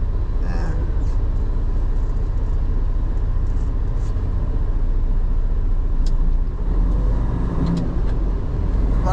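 A truck engine runs steadily while driving, a constant low road drone with some rattles and faint clicks inside the cab, with no speech.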